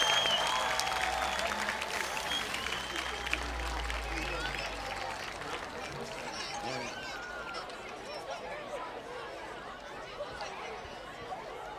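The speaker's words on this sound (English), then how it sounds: "how about a nice round of applause for our Pop Warner Youth Football cheerleaders and" Crowd at a high school football game applauding Pop Warner youth football cheerleaders and players, distant stadium clapping with cheering and chatter, heavier at the start and tapering off.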